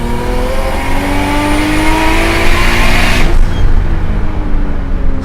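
A 500 hp single-turbo RB26-swapped Nissan 240SX revving hard, a loud, raw engine roar climbing in pitch and then dropping off sharply, close by and with no talk.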